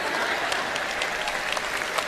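A church congregation applauds during a Sunday sermon, steady dense clapping filling the room at a moderate level with no voices over it.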